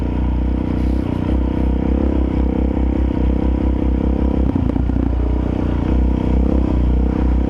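A motorcycle ridden on a cold, muddy trail, its engine a loud, steady low drone with throttle pulses and clattering over rough ground, close throughout with no talking.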